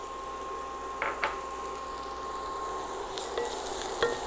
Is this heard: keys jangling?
no